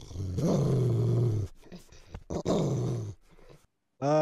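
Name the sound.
person imitating a growl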